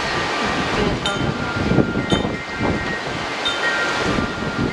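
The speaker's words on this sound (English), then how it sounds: "now that it's really windy" Strong wind blusters steadily against the microphone in a constant rushing roar, with faint bright tones now and then.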